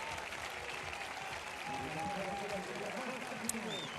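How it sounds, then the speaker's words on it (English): A stadium crowd at a women's triple jump competition gives sustained applause, steady clapping throughout, with faint speech mixed in. "That crowd still giving Majidedin Ghazal a huge round of applause"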